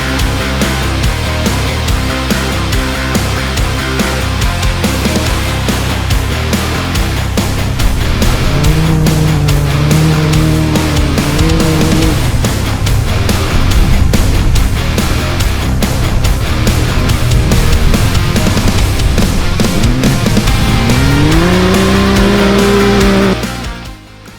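Rally cars race on an 80 km dirt track, engines roaring loud and continuous with rising and falling revs as cars accelerate past, a steady wash of road noise throughout.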